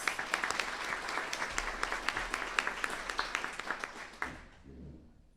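Audience applause at an internal medicine resident graduation awards ceremony, a dense steady patter of many hands clapping throughout before thinning and fading out near the end.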